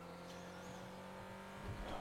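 A car driving in GTA 5 Online on PS4, a steady engine drone with faint tire noise that swells briefly near the end, with no talk over it.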